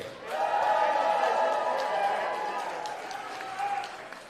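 A crowd at a live wrestling event cheers and roars steadily, a sustained mass of voices swelling early and holding loud, with some clapping mixed in.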